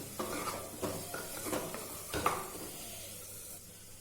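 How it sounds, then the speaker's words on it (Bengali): Chopped egg fries in a pan with a faint, quiet sizzle while a utensil stirs and scrapes against the pan in a few uneven strokes, then the sound settles into a low hiss. "ডিমটা দেখুন ভালো করে কিন্তু ভাজা হয়ে গেছে"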